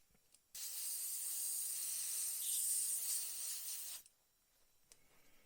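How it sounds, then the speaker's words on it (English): An airbrush sprays green paint in one steady hiss lasting about three and a half seconds, close and fairly quiet, then stops abruptly. "We'll put the green in first, and then we'll give the airbrush a really good colour change and clean."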